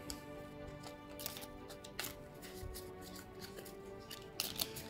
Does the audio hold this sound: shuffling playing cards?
yes